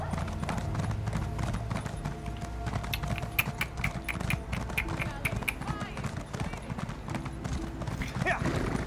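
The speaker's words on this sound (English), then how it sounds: "Giddy up, horsey." A horse galloping in The Elder Scrolls Online, rapid rhythmic hoof clip-clops pounding steadily and close, with a player talking over the game audio.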